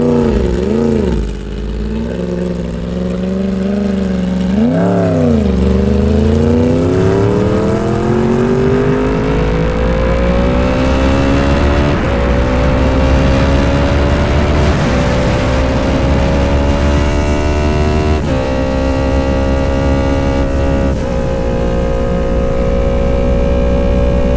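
Motorcycle ride captured on an Insta360 X5 whose front microphone sits behind a mesh wind screen: a steady engine drone rises and falls with throttle changes, over a constant rush of wind, loud and unbroken, with no talking.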